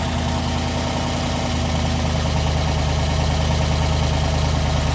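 A TBSS engine freshly fitted with a new cam idles steadily through a full exhaust with mufflers, giving a loud, continuous lumpy rumble with a rhythmic lope close by, and no voices over it.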